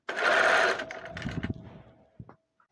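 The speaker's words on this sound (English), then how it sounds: "so you bring the two ends of the armhole together and then sew in your seam allowance." A sewing machine sews the armhole seam of a twelve-panel jacket with a shawl collar, giving one short whirring run that fades into faint handling noises.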